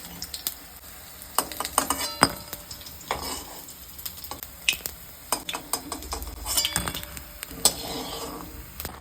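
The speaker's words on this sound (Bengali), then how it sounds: "এখানে কিন্তু ভাজা পুরো কমপ্লিট হয়ে গেছে এবার এটাকে তুলে নেওয়া হবে" Chops frying in a pan, a moderate sizzle broken by frequent sharp clicks and scrapes of a utensil turning and lifting the pieces, close by with no talking.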